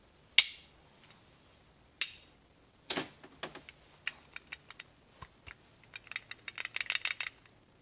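A sun gear rattles inside the shell of a 46RE transmission, first with two sharp metallic clinks, then a quick run of light, close ticking rattles that grows busier toward the end.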